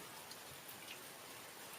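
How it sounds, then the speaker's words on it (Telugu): Steady rain falls in Dhone mandal, Nandyal district, with a dense, even hiss of drops throughout, no voices, just continuous pattering at a constant level. "నంద్యాల జిల్లా డోన్ మండలంలో వాన అద్భుతంగా కురుస్తున్నది"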